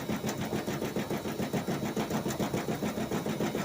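A washing machine runs with a quiet, steady mechanical churn, pulsing in a regular rhythm of soft thumps, close by with no talking.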